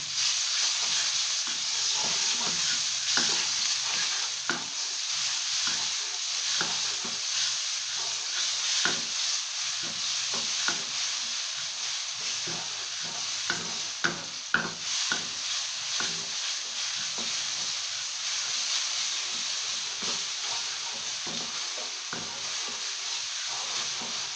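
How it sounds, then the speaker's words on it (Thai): Chinese kale with crispy pork stir-fried in hot oil with pounded chilli and garlic, a steady close sizzle broken by frequent scraping stir strokes throughout, with no talking. "ผัดให้หอมค่ะ"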